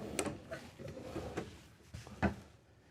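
Soft-close storage drawers in a Newmar Mountain Aire 4118 motorhome slide and settle with a few soft, muted thuds and brief rustles, quiet and close, with no one talking.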